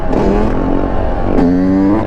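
A KTM 450 dirt bike engine revs hard twice, each loud four-stroke blast rising in pitch close by before dropping away, with no talk over it.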